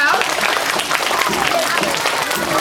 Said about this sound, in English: right now, everyone's supposed to clap